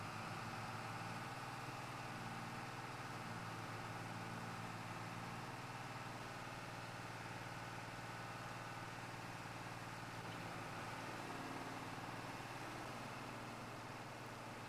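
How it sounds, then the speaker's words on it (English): A tractor engine drones steadily while driving along a road in Farming Simulator 22, a constant faint mechanical hum with low vibration and no talk over it. "It is a quite nice tractor. So as we're going on down the road here"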